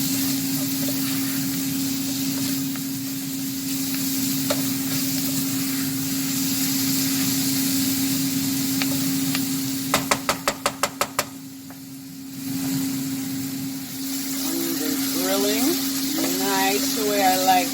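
A pot of Brussels sprouts hisses and sizzles as heavy seasoning is stirred in, with a quick run of sharp knocks of the spoon on the rim midway and a steady hum underneath, close by.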